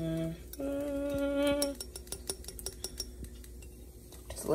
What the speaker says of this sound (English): And now we gonna stir it up.